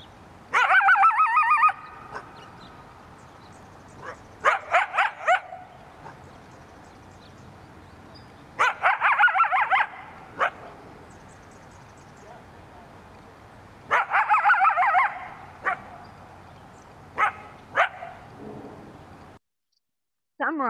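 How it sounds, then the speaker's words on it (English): A coyote in San Francisco lets out repeated harsh, raspy barks in loud clustered bursts separated by quieter pauses, sounding upset and agitated. "the barks you just heard, which show they are upset, angry, or they use these as a warning"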